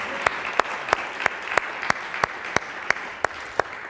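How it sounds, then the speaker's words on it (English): A church congregation applauding during a morning worship service in the sanctuary, a steady wash of clapping with a few sharp near claps standing out at regular intervals, no voices over it. "Would you give them a round of applause this morning?"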